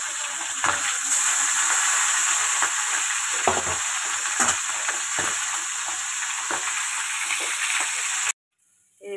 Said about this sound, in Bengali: চলুন মাছগুলো ভাজার পালা করি